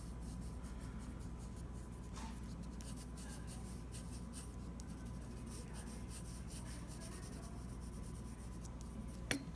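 A pencil drags over paper in a steady, soft scratching as shapes are outlined and shaded, faint but continuous with no voice.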